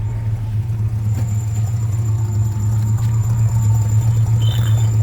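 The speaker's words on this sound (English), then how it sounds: "Letting it run for just a minute. It's got a 92 Chevy 350 in it." Chevy C10 pickup fitted with a 1992 Chevy 350 V8 and a three-speed column shift, idling steadily with a low, even rumble, parked close by with the emergency brake set.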